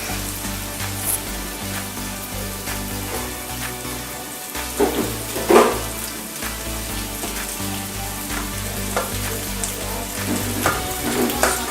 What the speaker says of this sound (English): Let's throw the potatoes in there and let it fry up a little bit.